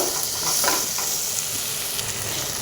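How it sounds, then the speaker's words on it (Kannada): Paneer keema ingredients fry in a pan on a gas stove, giving a steady, close sizzling hiss with no voices throughout. "ಈ ಥರ ಚೆನ್ನಾಗಿ ಫ್ರೈ ಮಾಡ್ಕೋಬೇಕು"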